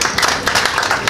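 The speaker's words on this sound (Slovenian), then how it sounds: "Prosim, en aplavz." An audience claps at an art expo opening in Slovenia, a brief dense burst of many hands applauding together at close range.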